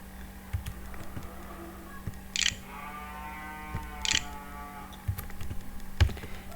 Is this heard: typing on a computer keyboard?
yes